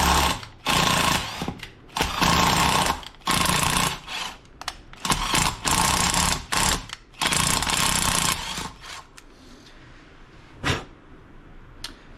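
Power tool repeatedly run in and out of bolt holes on a Harley-Davidson Touring motorcycle to clear old thread locker, loud close whirring bursts in an irregular stop-start pattern that taper off toward the end.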